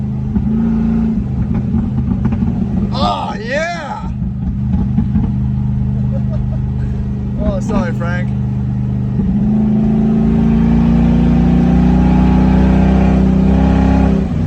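A 1989 Range Rover Classic's 3.9 engine roars steadily and climbs to a sustained 4,000 RPM, loud and close, while someone shouts briefly over it.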